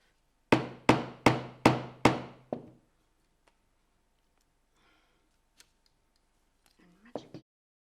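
Five sharp hammer blows on a metal press stud being fixed to handmade jeans, struck in a quick, even rhythm, each a crisp ringing knock, followed by quiet with a few faint clicks and a brief rustle at the end.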